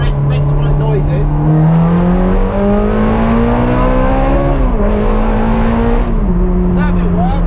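A Ferrari on a test drive after a brake repair, engine droning steadily close by and rising in pitch as it accelerates, then dropping and climbing again through gear changes, with a person talking over it.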